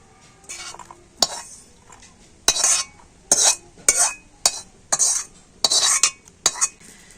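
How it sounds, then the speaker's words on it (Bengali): Fried coconut is mixed into pitha batter with a utensil, giving a series of sharp, close scraping and clinking strokes against the bowl in an irregular rhythm, about a dozen bursts with quiet gaps. "ভেজে নিয়ে নারকেলটা দিয়ে তো ব্যাটারটাকে আবার একটু ভালো করে ফেটিয়ে নেবো"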